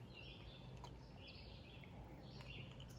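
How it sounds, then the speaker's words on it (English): Small birds chirp faintly in a quiet backyard, with scattered high tweets rising over steady low background hum across a few seconds. "You can hear the birds. They're chirping."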